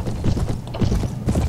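Horse hooves in the video game Prophesy of Pendor clop in a quick, loud, rhythmic trot, close and steady through the brief moment.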